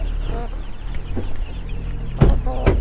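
Lohma chickens cluck in short bursts close by, with a couple of louder squawks near the end.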